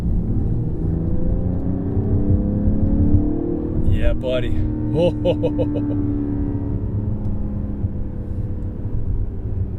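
A 2021 Mercedes-AMG GLE 53 SUV engine revs up and accelerates with a deep, steady rumble, while someone speaks briefly over the noise.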